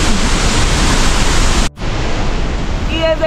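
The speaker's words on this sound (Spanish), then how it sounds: "desde la cascada del Salto de Candela" Broadband roar of the Salto de Candelas waterfall in Boyacá, Colombia, loud and steady close up, broken by a brief dropout midway, with faint whistling tones near the end.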